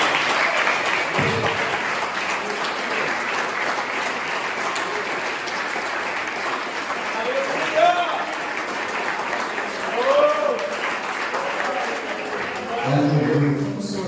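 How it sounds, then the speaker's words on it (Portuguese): A church congregation applauds during an evangelical service, a broad continuous wash of clapping that holds steady throughout, with voices speaking and calling out over it. "Nós podemos aplaudir a presença de Deus."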